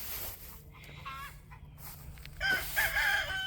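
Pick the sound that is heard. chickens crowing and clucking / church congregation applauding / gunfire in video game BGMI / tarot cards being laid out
chickens crowing and clucking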